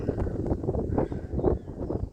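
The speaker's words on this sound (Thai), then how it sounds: "มีลมเย็นๆสบายครับผม ตอนนี้ลมก็แรงด้วยครับ" Strong cool wind blowing outdoors at Ban Pa Chik, a rural spot by a newly dug area, rushing steadily and loudly across the microphone with gusty swells.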